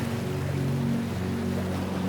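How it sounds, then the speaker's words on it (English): Boat engines idling at a dock give a steady low hum with sustained tonal drones, continuous and moderately loud, with a faint wash of water and wind behind. "The engines lower their tone once more."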